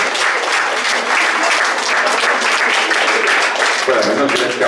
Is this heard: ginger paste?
no